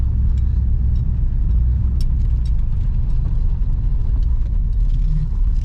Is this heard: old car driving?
yes